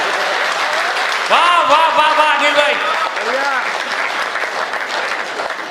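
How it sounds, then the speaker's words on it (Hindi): Audience applause at a Hindi comic poetry gathering, a hasya kavi sammelan: steady clapping fills the room while a voice calls out loud praise over it, then the clapping continues as the voice trails off. "अरे ताली बजाओ, ताली बजाओ,"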